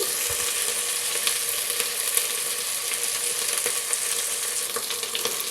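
Spices and vegetables for egg biryani frying in a pan of oil, a steady, close hiss of sizzling with scattered crackles and an occasional light scrape of stirring throughout.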